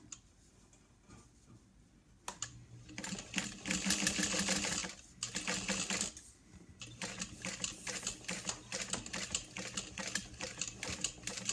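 A sewing machine top stitching a thick bag strap through peltex runs in fast, steady bursts of close mechanical ticking, pausing briefly between runs, with no talking.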